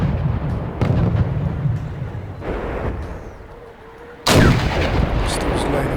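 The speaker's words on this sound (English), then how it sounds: "Still laying with the artillery." Artillery in the strategy video game Wargame European Escalation fires heavy booming shots with rumbling tails, a few spaced rounds and a loud blast near the end, under faint voice.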